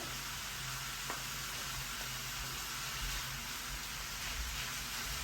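About 500 grams of minced meat fries with garlic in a pan for a Mexican-style dish, a soft, even hiss of sizzling throughout, quiet and steady with no talk.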